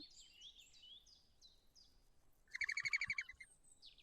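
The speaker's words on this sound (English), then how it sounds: "Oof, that bird's loud." Synthetic birdsong from the board game Wingspan plays as a series of thin, descending chirps, then a loud, rapid trill of about ten evenly spaced notes, followed by a few more chirps, with no talk.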